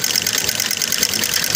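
A home sewing machine runs steadily without catching the thread, its motor and mechanism making a continuous, even whir with a fast rattling texture. The sound stays close and constant throughout, with no talk.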